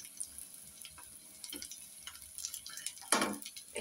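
Bengali chop fritters frying in oil, a soft crackling sizzle with light clinks and stirring, faint and close, swelling into a brief louder hiss near the end.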